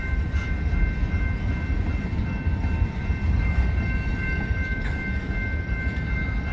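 A freight train shoving along the rails at about 60 near a wye by a highway, a steady loud rumble of wheels with faint high squeal tones running throughout, no talk over it.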